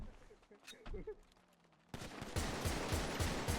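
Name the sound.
gunfire in the video game FiveM (GTA V)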